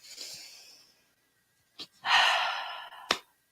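A deep, close breath through the nose and mouth: a soft airy exhale, a brief snuffle, then a long drawn breath ending in a sharp little catch.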